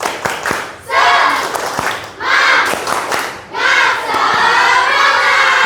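A classroom of students performs a rhythmic spirit clap, loud group clapping and chanting in three energetic bursts with sharp claps between them.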